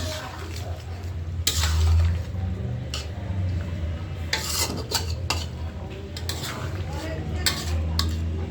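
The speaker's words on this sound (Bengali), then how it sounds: "দুপুরের জন্য মাংস রান্না করতেছি" Meat being stirred as it cooks in a pot for lunch: steady scraping and clinking of a utensil against the pot with a low cooking hiss, close by, and a few louder knocks.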